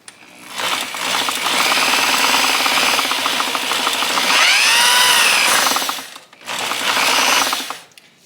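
A 1971 Honda SL125 motorcycle runs on a stand while being taken through the gears, its engine buzzing steadily and close with a rising whine partway through, then briefly dropping out before resuming.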